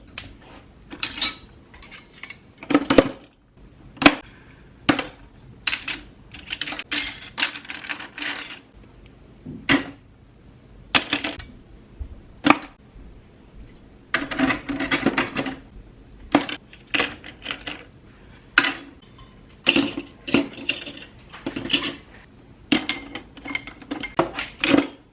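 Metal kitchen utensils, tablespoons, teaspoons, bottle openers and peelers, clink and rattle in a drawer being sorted, with sharp, irregular jangles and clatters separated by short quiet gaps, close up.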